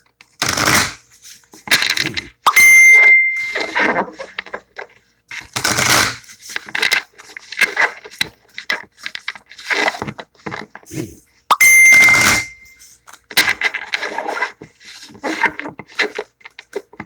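Bursts of crisp tarot card shuffling come in repeated riffles with short pauses between them, close and fairly loud, with no talking. The deck is new.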